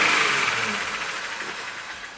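A 2019 Jeep Rubicon with a Pentastar V6 runs rough with a misfire at about 71k miles, a steady close hissing engine drone with an uneven, faintly pulsing texture, fading slightly in level.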